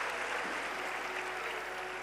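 A crowd at a Shiv Mahapuran katha in Sehore claps together in welcome, a brief, dense wash of applause that stays steady for its couple of seconds.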